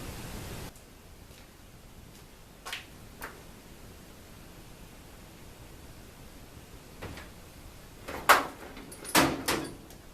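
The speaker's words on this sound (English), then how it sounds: "So now I'll put the drawers back in the toolbox and roll it underneath there" Metal toolbox drawers slide back into place and the toolbox rolls under a newly built lathe stand, giving scattered knocks and clunks over quiet room noise, with the louder thumps near the end.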